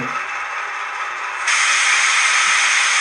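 A steady, loud hiss of air from the air compressor of an SM42 diesel locomotive that suddenly grows louder and brighter partway through and then holds, with no voices.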